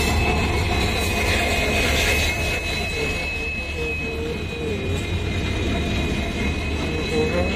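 A train runs past at a railway station in Agartala, a loud continuous low rumble with a steady high whine and faint crowd sounds underneath.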